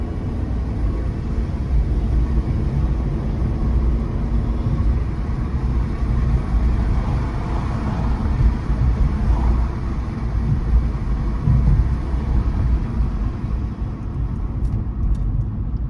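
A car is driven, with the sound heard from inside the cabin: a constant low engine and road rumble and steady wind-like noise, with no talking.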